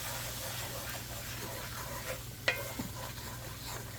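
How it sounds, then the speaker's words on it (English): A flour and oil roux is stirred in leftover steak grease in a pan, with a soft continuous sizzle and scraping strokes, plus one sharp clink of a utensil, all fairly quiet. "Stir it around."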